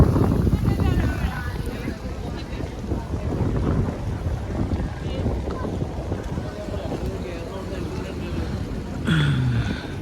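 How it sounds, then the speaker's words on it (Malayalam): Strong outdoor wind in Victory Park, Russia, roars against the microphone in continuous buffeting gusts while a person talks over it. "ഞാൻ നേരത്തെ പറയുന്ന പോലെ തന്നെ കാറ്റ് ഒരു രക്ഷയില്ലാത്ത കാറ്റാണ്"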